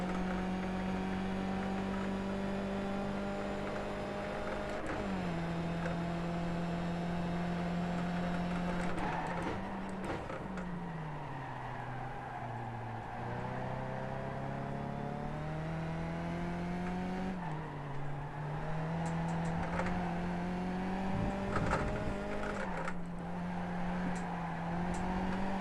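A Skip Barber race car in iRacing at the Okayama circuit, its engine droning steadily throughout with pitch rising and dropping through gear changes and corners, with no pauses.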